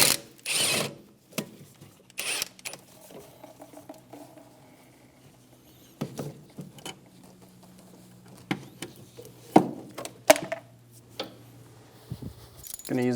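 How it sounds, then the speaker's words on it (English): A ratchet with a 12mm socket works loose the brake line bolt at the caliper of a 2003-2007 Infiniti G35 rear brake, scattered clicking ratchet bursts and metallic clinks in a quiet garage. "Using a 12mm socket, undo the bolt for the brake line to the caliper."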